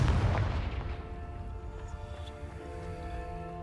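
A Confringo fire-blast spell detonating in Hogwarts Legacy: one heavy, booming explosion opens loud and full, then rumbles and fades under a lingering ringing tone for several seconds.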